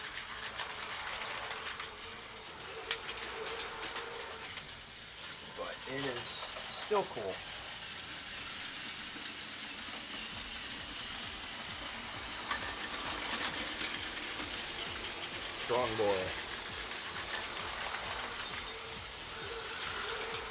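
A Tomy Thomas & Friends toy train runs along its plastic track with a faint rattling whir, heard under quiet talk and background noise, with a few brief squeaky sweeps.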